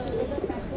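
Pigeons coo softly and continuously at a crowded pigeon market in Mirpur 14, low murmuring calls close by with a faint background hum.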